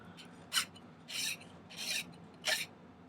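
A hand file rasps across metal, filing it flat for a tension bracelet, four separate short scraping strokes spaced roughly half a second apart, close but quiet with no speech.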